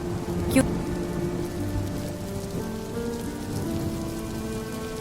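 Steady rain patters on a hard surface, dense and close, with a low rumble underneath and one sharp knock near the start.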